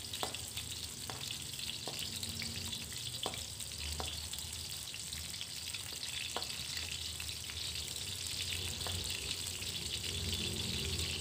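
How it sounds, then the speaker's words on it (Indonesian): A soft, steady sizzle of onions frying in a wok fills the clip, with occasional light clinks and scrapes; no one speaks. "Digoreng dulu bawang ini hingga benar-benar matang."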